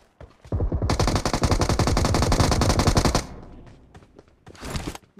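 Rapid automatic gunfire from an M4 in a mobile shooter game rattles out in a long, loud, evenly spaced burst, then a few scattered shots follow after a short lull.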